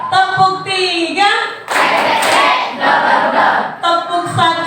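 A group claps in unison during a classroom clap game, bursts of claps between stretches of chanted voices.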